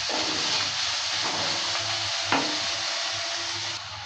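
Garlic and onion stirred and fried in a pan for a hill bean-seed mash, a steady broadband sizzle with faint scraping and one brief louder clink near the middle.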